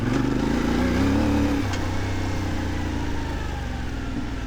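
A CFMOTO 450MT motorcycle rides in second gear, its engine a steady, loud mid-pitched drone that dips in tone partway through and then holds even to the end.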